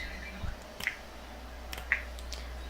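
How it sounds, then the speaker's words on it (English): Fingers snap sharply a couple of times, crisp isolated clicks close by over a quiet low hum, spaced about a second apart, with no talking. "I need you guys to snap your fingers like this."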